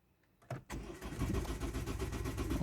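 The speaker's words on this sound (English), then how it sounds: "the car is cranking now very well" A Ford Kuga engine cranks briefly and then starts, catching with a loud surge and settling into a steady, rumbling idle close by, with no talking.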